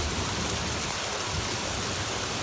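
Heavy rain pours down in a steady, dense hiss that stays loud and even throughout, with no voices.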